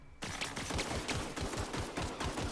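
Rapid volleys of gunfire from a pistol in The Outer Worlds video game, sharp repeated cracks in an uneven rhythm, loud and close over a steady noisy game background.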